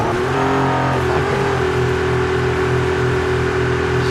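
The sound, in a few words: racing car engine in a racing video game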